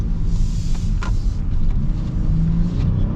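A 2025 Honda Odyssey Elite minivan with a V6 engine accelerates, a low muffled engine rumble and road noise heard from inside the cabin, steady and fairly loud.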